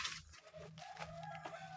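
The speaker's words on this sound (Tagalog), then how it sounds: "So ngayon ang uunahin natin yung aking isang inahin" A backyard mother hen clucks in short, repeated calls, fairly close and clear over quiet surroundings.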